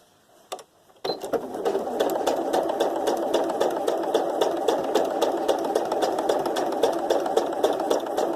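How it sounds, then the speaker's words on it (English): A sewing machine stitches scraps of fabric together. After a brief pause it starts up and runs continuously with a fast, even mechanical rattle, close by and with no talking. "Turn the fabric round, and I'll just sew this along here."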